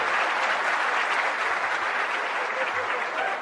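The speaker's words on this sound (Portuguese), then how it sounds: "Ixi, aplaudir." A steady wash of applause from an audience at a motivational talk, dense and continuous at moderate level for the whole stretch with no voices over it.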